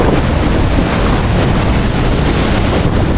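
Strong wind buffets the microphone near Cavinti Falls in Laguna, a loud continuous rushing roar with no letup and no voices.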